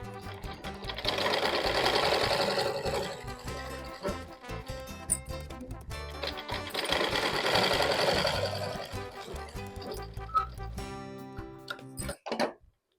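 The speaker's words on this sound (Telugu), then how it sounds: "ఇంకో కుట్టు అయితే వేస్తున్నా" Sewing machine double-stitching a blouse, running in two fast mechanical bursts of rapid ticking stitches with short pauses and handling clicks between them, close and alone.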